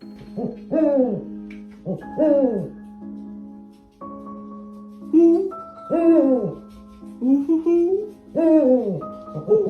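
An owl gives repeated hoots in short rhythmic bursts, clear and fairly close, over a faint steady hum.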